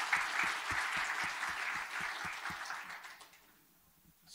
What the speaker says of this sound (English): please give a round of applause for Magdalena